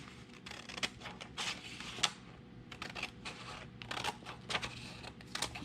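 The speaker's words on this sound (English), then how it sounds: "I take my scissors, and I cut the first strip out" Scissors snipping through a strip of paper for accordion-fold art, a quiet close run of irregular crisp clicks and cuts with brief pauses between strokes, with no talking.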